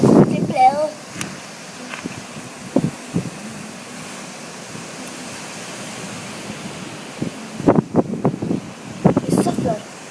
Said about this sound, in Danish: Det stormer helt vildt meget.